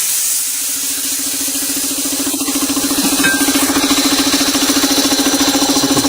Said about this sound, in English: And the pressure valve kicks in.